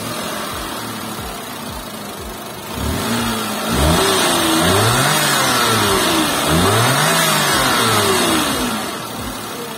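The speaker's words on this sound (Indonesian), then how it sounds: "Sekarang kita pengen denger suara mesinnya kayak apa gitu ya. So, foot on the brake, kita start up dulu." A Toyota Roomy mini MPV's 1000cc three-cylinder turbo engine starts up, settles briefly, then revs in several rising and falling sweeps before returning toward idle, steady and close.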